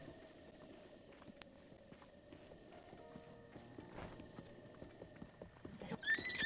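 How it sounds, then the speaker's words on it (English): Horse hooves clip-clopping in The Legend of Zelda: Breath of the Wild, a steady game-sound rhythm over a low background bed, with a brief neigh-like cry near the end. "Oh, this horse is feisty."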